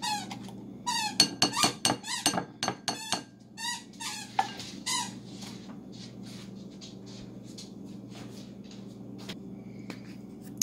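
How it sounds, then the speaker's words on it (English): A dog squeezes a squeaky toy repeatedly in rapid, uneven bursts of high-pitched squeaks, loud and close, then trailing off into quieter scattered squeaks over a low hum. "He's a rescue dog, so we just let him squeak."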